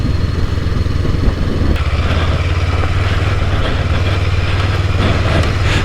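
Honda NX 500 motorcycle riding a trail, a loud steady engine drone with rumbling low end and wind noise, continuous and close throughout.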